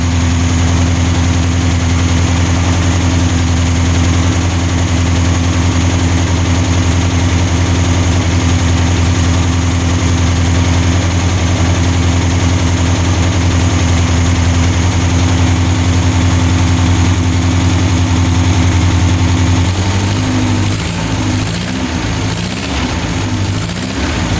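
A 1967 Volkswagen dune buggy engine runs steadily at idle, close and loud, with a low droning rumble and vibration throughout after a clogged fuel line was cleared; the tone shifts slightly near the end.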